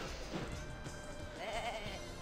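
A single sheep in the PS1 video game Sheep, Dog 'n' Wolf bleats in a short, wavering cry, fairly close and clear, with faint background sounds around it.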